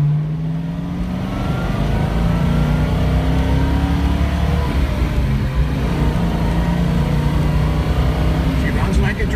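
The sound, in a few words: 1970 Ford Boss 302 Mustang engine revving during ride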